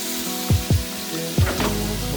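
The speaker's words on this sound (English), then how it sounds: "We're gonna fry these first." Squirrel meat frying in oil in a pot sizzles steadily up close, with several sharp spitting pops and a burst of stirring near the end.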